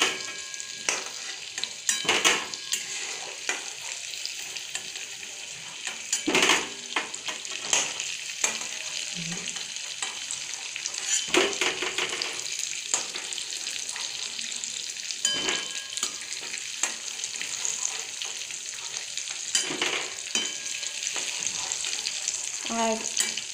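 Potato and pointed gourd frying in hot oil, a steady sizzle with occasional stirring scrapes and clanks throughout, close and continuous with no talking.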